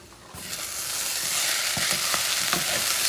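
Squid ink rice is stirred in a hot pan over medium heat, a rising close sizzle with rhythmic scraping strokes of the utensil through the rice.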